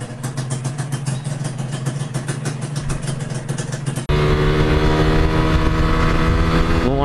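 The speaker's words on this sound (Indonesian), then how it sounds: "Yang jelas suara mesinnya udah nggak terlalu berisik dan tarikannya udah lumayan enak banget." A Suzuki Satria Hiu motorcycle engine runs close by, first a rapid, even idle putter, then revving up abruptly into a louder, steady higher-pitched drone.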